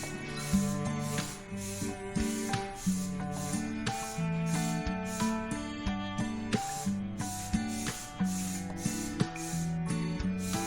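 A spray bottle of cleaner is pumped onto a bathtub again and again, short hissing bursts in a quick, regular rhythm, close by and fairly loud.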